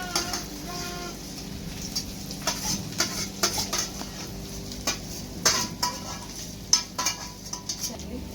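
Onion frying in a pot for potato chutney, a continuous sizzle broken by repeated close scrapes and clinks of a spoon stirring against the pan, uneven in rhythm.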